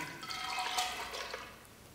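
Soaked toor dal tipped into a pot together with its soaking water, a short soft splash and gurgle of liquid lasting about two seconds.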